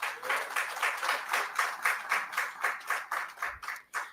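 A crowd at a welcome-home ceremony for an Olympic gold medalist claps in a steady, even rhythm of about three beats per second, sounding moderately distant and fairly quiet.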